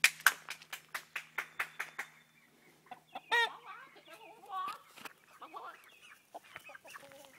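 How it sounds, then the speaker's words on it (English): Chickens cluck in a quick run of sharp, rhythmic bursts, then scattered clucks and squawks continue at close range with some rustling. "Get the darn chickens out behind the house."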